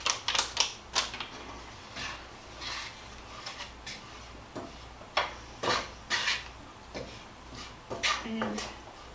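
Browned hamburger meat and onions stirred with taco seasoning in a pan: a sequence of sharp utensil clacks and scrapes against the pan in irregular bursts, fairly close, with brief pauses between strokes.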